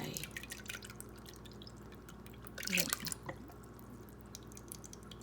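Fish sauce poured for a spicy Thai papaya salad gives a brief splashing drip midway, set against a steady clutter of faint kitchen noise.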